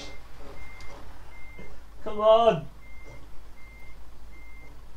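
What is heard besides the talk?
lorry reversing with reverse beeps, Euro Truck Simulator 2 video game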